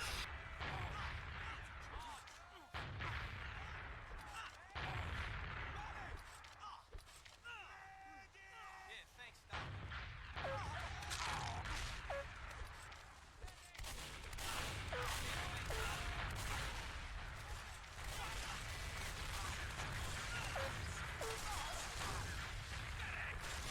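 Rocket explosions in a team-based shooter video game, a dense run of booming blasts and gunfire that rises and falls across the whole stretch, with people talking over the top.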